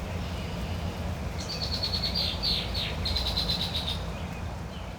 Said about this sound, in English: And filling the air, bird song.